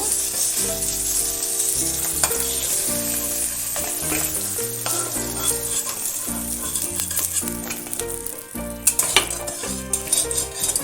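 Garlic fries in oil in a pan over a constant sizzle, with music playing over it and occasional metal utensil clinks and stirring.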